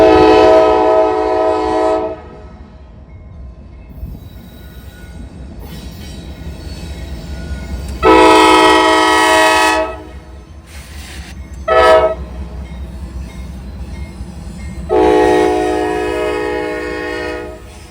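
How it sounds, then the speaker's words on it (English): Two Norfolk Southern freight trains on the Columbus District, with loud repeated horn blasts in several long bursts over a steady rumble of rolling cars and wheels, close by and outdoors. "Norfolk Southern would get back onto the action when not one, but two trains showed up on the Columbus District"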